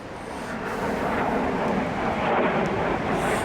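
Overhead aircraft rumble through a Yorkshire Dales valley in Wensleydale as two helicopters and a fighter jet pass, a loud, broad, continuous roar that swells slightly toward the end.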